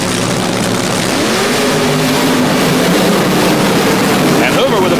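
Late-1970s funny car drag racers roar toward the finish line, a loud sustained engine drone with rising pitch under an excited announcer's commentary.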